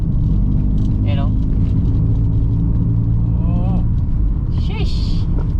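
A Toyota Raize fitted with a full aftermarket exhaust system rumbles deep and steady nearby, its engine drone continuous under people talking throughout.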